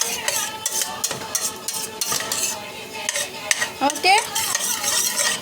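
Egg poriyal is stirred in a pan, with repeated metallic scrapes and clinks of the utensil against the pan over a light sizzle, close and fairly loud. One brief spoken word is heard.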